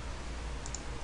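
Two quick, faint mouse clicks in Cinema 4D sound close together over a quiet room hum.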